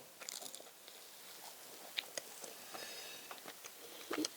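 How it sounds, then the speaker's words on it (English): Close, quiet bites and chewing of a pancake filled with strawberry, banana and Nutella, a few soft crunchy snaps followed by light mouth sounds and no talking. "now try a bite"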